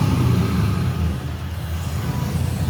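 A loud LS-swapped Nissan 350Z on a dyno, its V8 engine producing a heavy, sustained low rumble throughout at close range.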